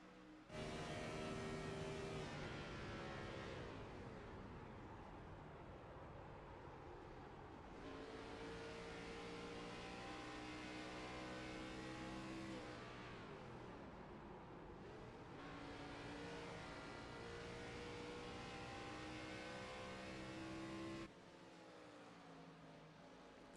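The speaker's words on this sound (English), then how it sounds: "You heard him cut the engine into turn number 3." Simulated race car engine in iRacing at Indianapolis Motor Speedway, a steady loud onboard drone with rising and falling pitch as the driver lifts and cuts the engine into a corner, then picks up again.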